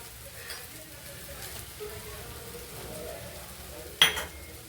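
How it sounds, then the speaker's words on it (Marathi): Masala frying in oil for crab curry, a faint, steady low sizzle with one sharp clink of a spoon against the pan near the end, no speech. "आता इथे आपला मसाला तेलामध्ये चांगला परतून झालेला आहे।"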